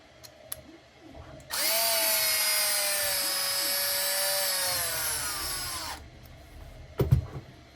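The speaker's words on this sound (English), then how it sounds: "Get your drill." A power drill whirs continuously for several seconds as it drives an M5 screw into a toy cement truck model, then stops, followed by a couple of brief knocks.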